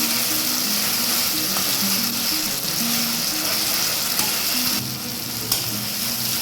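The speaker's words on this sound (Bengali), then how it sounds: "এবার এইটা ভালো করে ভেজে নেব" Garlic paste fries loudly in a hot pan, a continuous crackling sizzle with occasional pops and a faint low hum beneath.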